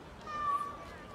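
A cat meows out on a street, a single drawn-out mewing call at moderate level over a faint background hum.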